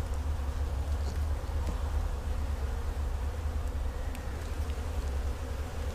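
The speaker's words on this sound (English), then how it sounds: "Because this appears to be a box full of bees." Honeybees drone steadily inside a brood box, a dense, continuous buzzing hum with a strong low tone, up close and without talk.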